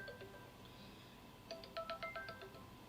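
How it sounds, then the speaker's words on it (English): A phone sounds a quiet electronic ringtone for an incoming call, a short melodic pattern of beeping tones repeating over low background hum. "I'm gonna ignore this phone call"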